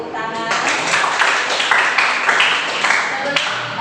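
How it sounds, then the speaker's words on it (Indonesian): A school class clapping hands together, a burst of brisk, dense applause from many children that starts abruptly and carries on evenly for a few seconds, fairly close in a classroom. "Oke, tepuk tangan."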